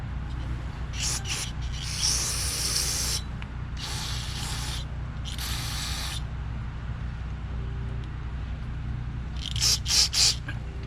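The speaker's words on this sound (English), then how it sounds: "Blow this out. With my carb cleaner." Carb cleaner sprayed through a Tecumseh 5HP snowblower carburetor in bursts: a long hiss, two more sustained blasts, then a few quick short spurts, close and alone.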